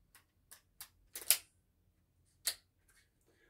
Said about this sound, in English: There's a little ratcheting effect that keeps you from being able to pull the trigger and have this slam shut on your fingers.